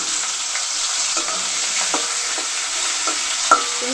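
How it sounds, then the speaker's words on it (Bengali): Shrimp frying in a pan alongside ginger and cumin, a steady close sizzle with a few soft scraping stirs and a brief clink near the end, no voices. "ভেজে নিচ্ছি।"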